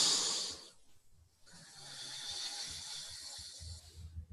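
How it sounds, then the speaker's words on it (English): Slow, deep breaths drawn in and let out by a person during a guided relaxation, soft airy hiss with a gentle rise and fall, close and quiet, no talking. "take a few deep breaths"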